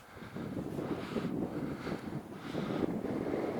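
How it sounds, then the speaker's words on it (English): Strong wind buffeting the microphone in a low, rumbling roar that surges and eases, high up at Lyme Park in winter, with no voices. "it's very windy up here"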